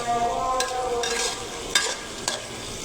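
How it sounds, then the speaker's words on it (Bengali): Dried fish (shutki) frying in oil in a pan for a spicy bhuna, a steady close crackle and sizzle with a few sharper stirring scrapes and spatter bursts. "শুটকিটা ভেজে নেবেন।"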